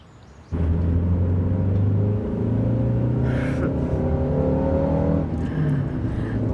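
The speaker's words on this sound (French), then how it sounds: "Moteur V8, 5 litres, bridé à 250 km/h." A V8 5-litre car engine, speed-limited to 250 km/h, bursts into a loud revving roar as the car drives off, its deep rumble and rising tones sustained close by, with brief higher hissing bursts along the way.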